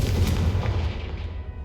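A Confringo explosive spell cast in Hogwarts Legacy lands as a single loud, booming blast with a rumbling low end and a crackling tail that fades over about a second and a half.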